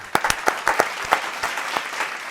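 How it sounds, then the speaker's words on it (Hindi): A poetry gathering's audience applauds, welcoming a poet from Meerut to the stage: brisk, close clapping with distinct individual claps over a steady crowd patter. "तो जोरदार ताली से स्वागत करिए।"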